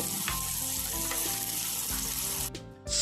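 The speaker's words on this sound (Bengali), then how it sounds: "তেল গরম হয়ে এসছে এবার মাছগুলো একে একে আমরা ভালো করে ভেজে নেব" Stingray fish pieces fry in hot mustard oil in a pan, a steady close sizzle with crackling pops running nearly throughout, briefly dipping near the end before resuming.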